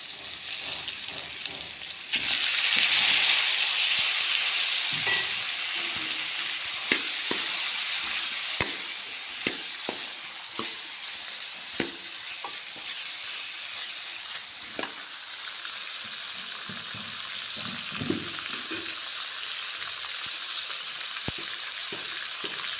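Cucumber and tomato pieces frying in oil for a Telugu cucumber dal, a steady close sizzle with scattered crackles and occasional stirring clicks that fades slightly over time.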